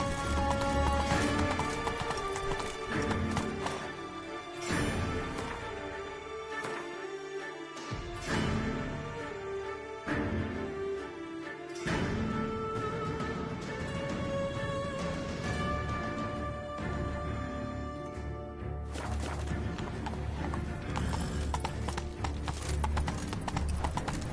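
Hooves of Geralt's horse Roach pound in a steady, rhythmic gallop in The Witcher 3, loud and close over continuous music, with occasional snorts and a whinny.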